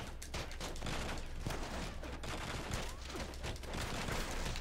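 Gunfire crackles through a firefight in The Bourne Conspiracy, a quiet, steady run of sharp shots repeating throughout, with no voices over it.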